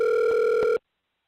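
A steady telephone tone plays loud and alone with a short break partway through, then cuts off abruptly into silence as a call connects to a recorded message line for the Scream TV series.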